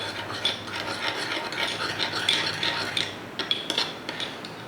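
Wasabi dipping sauce stirred in a bowl, a close, steady scraping and rubbing with light clicks of a utensil against the sides, continuous for several seconds with no talking.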